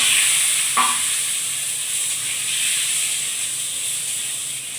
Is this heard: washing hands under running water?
no